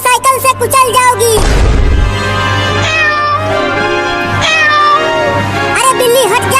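A cartoon cat meows loudly and repeatedly, its drawn-out, wavering cries following one after another near and clear, with talking mixed in.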